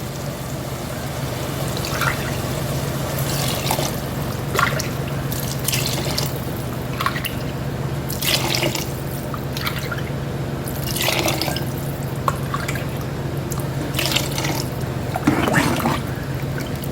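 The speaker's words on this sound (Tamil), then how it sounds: "இப்போ இதில் அஞ்சு டம்ளர் தண்ணி ஊற்றிக்கலாம்" Water pours in a steady stream into a cooking pot for biryani rice, a continuous trickling and splashing with occasional louder splashes, close by and with no talking.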